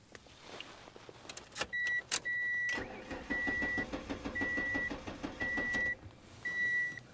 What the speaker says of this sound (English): Okay, so crank no start.